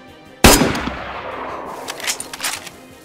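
A single loud, sharp rifle shot in the PC survival game DayZ, version 1.11, cracks out and rings off in a long echoing tail, followed by a few fainter, distant reports.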